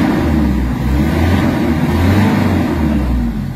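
A Mitsubishi Adventure engine with weak pulling power and low RPM revs steadily, a loud, close, continuous mid-pitched drone holding high with little change and no talk over it.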